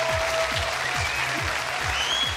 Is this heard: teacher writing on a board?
no